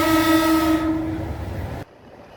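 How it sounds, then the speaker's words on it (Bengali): A train sounds a loud, steady horn blast for nearly two seconds as it pulls into the station, then the horn cuts off, leaving quieter rolling rail noise. "শেষ পর্যন্ত চলে আসছে আমাদের সেই কাঙ্ক্ষিত ট্রেন"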